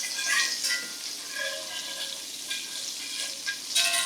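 A whisk scraping browned bits from the bottom of a frying pan while steak drippings sizzle, a close, continuous frying hiss with rhythmic scratchy strokes.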